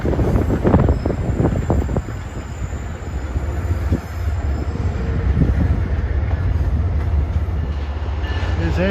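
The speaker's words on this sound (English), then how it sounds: "Here's Amtrak 2162 arriving from Washington." Amtrak 2162, a passenger train from Washington, pulls into a Boston-area station with a steady, loud low rumble, rolling wheel noise and faint metallic squeals over the whole stretch.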